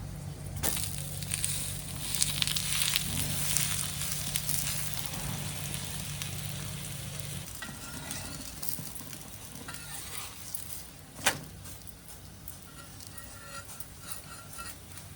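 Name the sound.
adai lentil crepe sizzling on a pan after flipping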